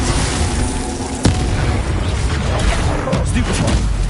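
Hogwarts Legacy spell combat with a Confringo fire blast, a sharp explosive boom early on amid continuous crackling, thumping battle effects, loud and close.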